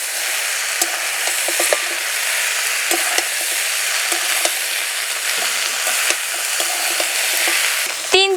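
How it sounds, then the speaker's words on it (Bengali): Spinach-stem ingredients frying in a pan over a low flame make a continuous, even sizzle up close, broken by frequent light scraping and stirring clicks, with no talking. "উনুনের জাল কমিয়ে দিয়ে 3 থেকে 4 মিনিট ভেজে নেব।"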